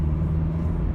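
A 2017 Honda Fit accelerates with a low, steady engine drone and road rumble heard from inside the cabin, a brief, even hum with no talking.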